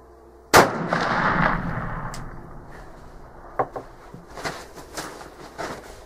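A Traditions Pursuit muzzleloader loaded with Blackhorn 209 powder fires one sharp, loud shot that booms and trails off, followed by a few faint knocks and shuffling.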